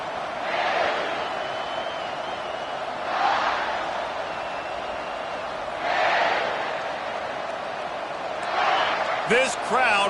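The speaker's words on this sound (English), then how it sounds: "This crowd bringing an ear-splitting welcome to their visitors." Stadium crowd in a college football video game roaring in a loud, steady wash that swells in waves every few seconds, with a brief sharp chirp near the end.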